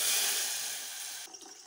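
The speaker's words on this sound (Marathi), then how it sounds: "चणा डाळीचं पाणी जे ठेवलं होतं आपण शिजवून काढलेलं ते टाकू" Cooked chana dal water pours into a pan of amti, a smooth continuous liquid rush that fades gradually before stopping, leaving a few faint drips.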